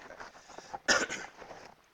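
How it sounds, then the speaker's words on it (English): A single sharp cough bursts out near the middle, close and fairly loud, in a quiet room during a calculus lesson on continuity, with faint breathing and movement around it. "Sorry about the cough."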